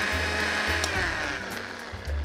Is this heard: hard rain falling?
no